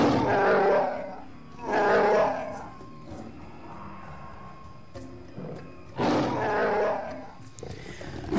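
Wookiees on Kashyyyk in the video game Star Wars Knights of the Old Republic give two loud, guttural roars separated by quieter growls and grunts, with no talking.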